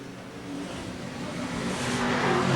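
Brisca F1 stock cars roar past on an oval track at Scunthorpe in 1991, a distant engine rumble that swells louder as the pack approaches during the final.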